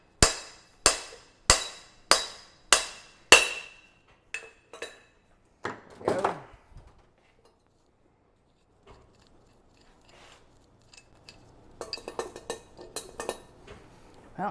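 Metal parts of a Land Cruiser differential clinking as the pinion nut goes back on: six sharp, evenly spaced metallic taps, then scattered faint clinks and rattles after a quiet gap, close by.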